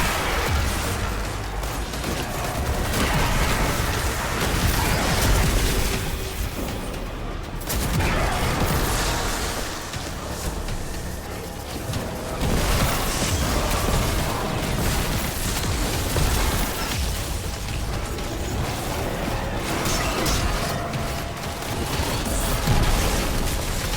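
Game explosions and gunfire from a Destiny 2 firefight on Nessus, a dense, continuous wash of blasts, booming impacts and rapid shots filling the whole stretch at steady loudness with no talk.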